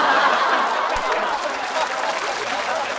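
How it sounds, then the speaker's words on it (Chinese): Audience applause and scattered laughter fill the room at a stand-up comedy competition show. The steady, fairly loud clapping holds evenly from start to finish, with no pauses. "哇，这个掌声"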